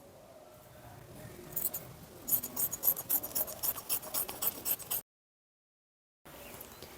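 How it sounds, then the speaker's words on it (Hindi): Scissors cut through a fabric salwar belt down its centre, giving a run of close, crisp snipping and rasping strokes that stop abruptly in a short silence before a few more soft handling sounds. "अब हमें बेल्ट को सेंटर से भी एक बार कट कर लेना है।"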